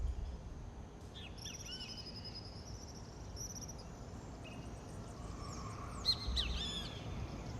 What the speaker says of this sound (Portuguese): tudo que se ouve são os sons dos pássaros e o vento nas árvores